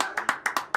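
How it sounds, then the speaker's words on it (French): A few hand claps in a live stream setting, about six sharp, evenly spaced claps in under a second, close and fairly quiet. "on peut les applaudir. Bravo."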